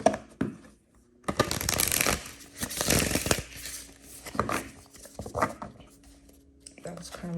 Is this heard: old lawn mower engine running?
no